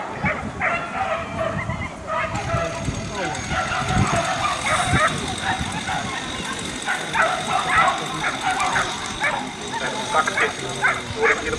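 Greyhounds bark and yip excitedly around the start of a 350 m race at Tampere, with repeated sharp barks and whines over outdoor crowd noise while a commentator speaks.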